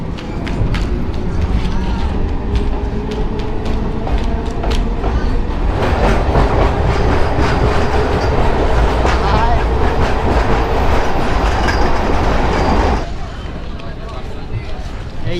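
A moving local train runs steadily throughout, with loud continuous rumble and rhythmic wheel clatter close by, background crowd chatter mixed in, and a brief louder, brighter stretch before the noise eases near the end.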